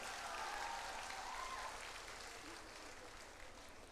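An audience applauds students of a higher secondary school at a centenary celebration, a dense wash of clapping that is loudest at first and slowly tapers off.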